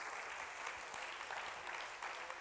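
Steady congregation clapping during a church sermon, dense and continuous, heard at a moderate distance for a couple of seconds.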